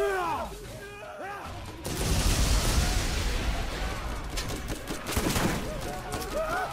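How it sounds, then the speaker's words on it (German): Shotgun fire from the Borderlands 1 video game, a burst of heavy blasts and crashing impacts after a quieter stretch, loud and dense in the game mix. "Wenn die Shotgun alle zwei Schüsse trifft, dann tötet sie so einen knallharten Schläger mit einem Schuss"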